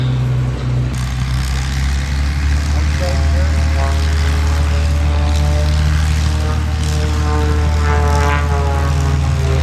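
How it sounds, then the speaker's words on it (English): A propeller airplane at the Oregon International Air Show in Hillsboro drones loudly and steadily with a deep engine hum throughout, while an announcer talks over the PA. "let's take a moment to talk about this incredible airplane you're flying"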